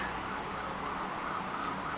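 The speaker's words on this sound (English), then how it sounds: "Oh, you can hear a fire engine" A faint, distant fire engine siren wails steadily behind a wash of outdoor background noise from a balcony, with no voices.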